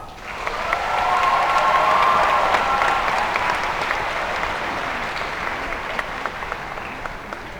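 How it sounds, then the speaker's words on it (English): A large audience at a high school graduation ceremony applauds loudly, swelling quickly and then slowly tapering off as the clapping continues for several seconds. "let's take a moment to thank the Henry staff and your families with a big round of applause"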